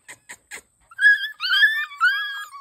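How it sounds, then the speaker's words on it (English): Six-week-old puppies whimper and whine close by, first with three short squeaks and then with longer, high, wavering wails that rise and fall. "These are the pups off of the last repeat breeding with Roo and Sugar Ray."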